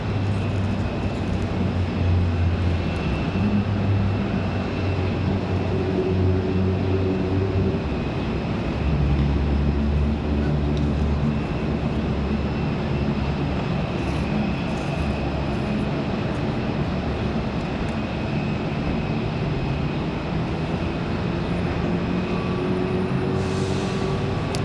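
Piper Malibu single-engine plane taking off from runway 23 left at Raleigh-Durham airport on a windy day, a steady droning engine roar heard at a distance for the whole stretch, with wind noise throughout.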